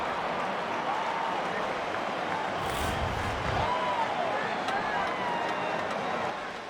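Stadium crowd at Hard Rock Stadium roaring after a college football touchdown, a broad sustained wash of cheering that swells briefly midway, with an announcer's voice talking over it.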